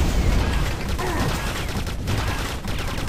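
Rockets fired in Quake 2 boom and crackle in a dense, loud barrage of blasts and gunfire-like bursts that continues for a few seconds without letup.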